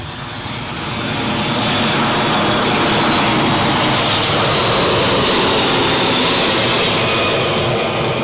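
Boeing C-17A Globemaster III military jet aircraft at Newcastle International Airport, a loud sustained broadband engine roar that swells within the first second and holds steady, close and alone.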